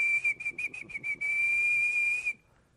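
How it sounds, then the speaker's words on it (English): A single person whistles one steady tone, first in several short bursts and then held as a long continuous note before stopping, close and clear with no talking. "So if I whistle"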